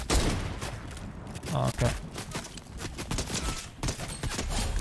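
Heavy sniper fire in GTA online play, cracking through a busy mix of game noise and gunfire, with a voice briefly speaking over it.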